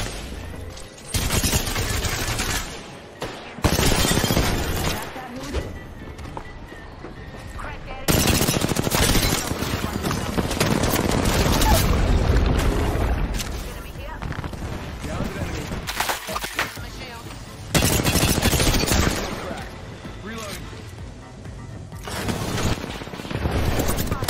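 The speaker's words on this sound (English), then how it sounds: "Sometimes the Havoc is one of the most disgusting guns in Apex." Loud, close automatic bursts from a Havoc rifle in an Apex Legends fight, long rattling volleys broken by brief pauses, with voices talking over the shooting.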